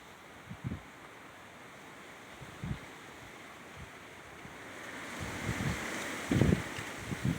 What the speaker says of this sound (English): And some strong wind.